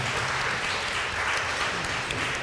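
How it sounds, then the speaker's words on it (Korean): A church congregation applauds at a distance in a soft, even wash of clapping that holds steady throughout, with no voices. "주님께 영광의 박수를 드립니다."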